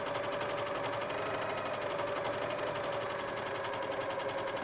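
A cover stitch sewing machine runs steadily and continuously at close range, an even mechanical whir with a fast regular rhythm, heard alone without talk.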